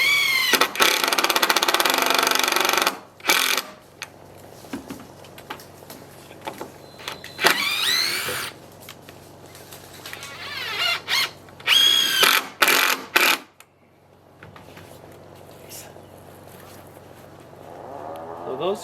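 Drill driving screws into tongue and groove boards on an A-frame cabin, several short high-pitched whirring bursts of varying length with quieter gaps, close and loud, with faint background noise between.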